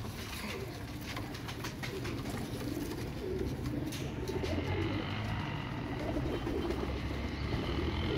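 Royal Teddy pigeons coo steadily within a dense, noisy loft ambience, the soft calls blending into continuous background sound.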